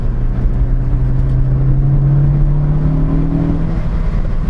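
A Ford Focus ST exhaust revving at about 4,000 RPM in second gear, a loud steady drone with a rising engine tone near the end, heard continuously from nearby without talk.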